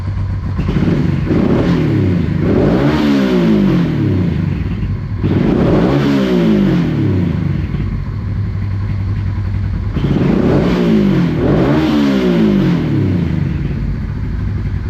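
A Honda XL 600V Transalp motorcycle engine idles loudly and close by, its tone rising and falling in repeated surges over a constant rumbling idle.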